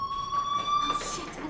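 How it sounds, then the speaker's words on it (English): In the Life is Strange video game, a fire alarm rings with a steady electronic tone that fills the clip, with faint background ambience. "Hey, do you hear that fire alarm?"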